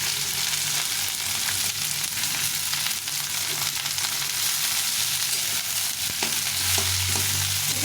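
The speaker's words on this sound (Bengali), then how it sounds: "বাঁধাকপিটা দিয়ে দেবো, দিয়ে ভেজে নেব।" Chopped cabbage and garlic fry in a hot pan with a steady, even sizzle that continues throughout, with no talking over it.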